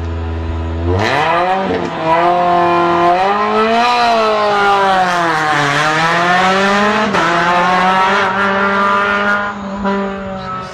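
A rally car accelerates hard out of a tight hairpin on a circuit stage at the Rallye des Grands Fonds, its engine climbing loud and close through several gear changes, pitch rising and falling for about ten seconds.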